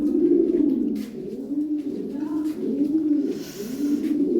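Racing pigeons of Belgian origin coo in a steady, rolling series of low throaty calls, close by and fairly loud, with no talking over them.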